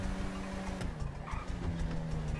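Police car driven in the video game GTA 5, its engine running steadily with a low droning hum and brief tire noise, loud and continuous without talk.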